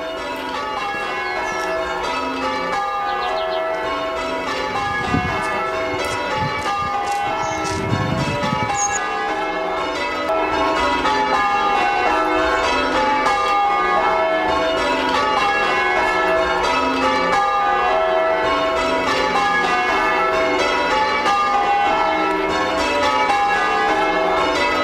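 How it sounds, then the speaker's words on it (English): Church bells peal continuously outside a rectory, a dense, layered ringing of overlapping strikes that carries strongly and steadily throughout with no talking. "There are the bells."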